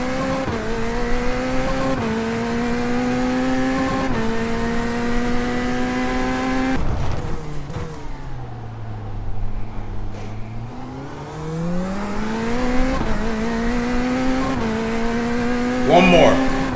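In iRacing, a Ford or Chevy race car's engine revs through repeated upshifts with rising whine, then drops low while tires squeal through a corner before accelerating again, loud and continuous with occasional talk over it.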